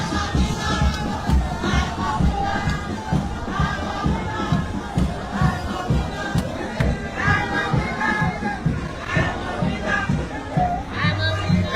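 A large crowd gathers at Monrovia City Hall on 1st Street in Sinkor, with continuous loud chatter and shouting voices, some rising into cheers.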